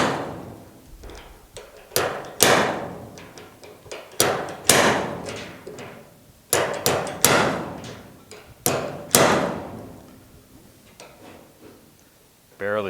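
Sharp metallic impacts of a slide hammer, hooked to a nut welded onto a Pontiac GTO fender-to-door body panel, strike repeatedly, about a dozen knocks in uneven bursts, close and loud against faint workshop noise.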